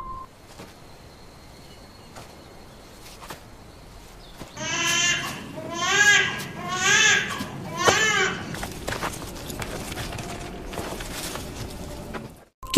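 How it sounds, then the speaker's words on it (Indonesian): Wailing cries come from beneath a house: a few wavering, sob-like bursts cluster in the middle of an otherwise quiet, hushed stretch, fairly close and clear. "tiba-tiba mendengar suara tangisan dari kolong rumah"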